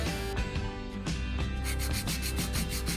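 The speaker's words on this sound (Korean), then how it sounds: "그라인더로 샌딩을 해서 그런가" A rotary grinder rasps against hard 3D-pen plastic in steady, close, abrasive bursts, the tone shifting as pressure changes, with no one speaking.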